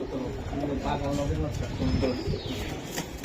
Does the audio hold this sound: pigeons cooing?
yes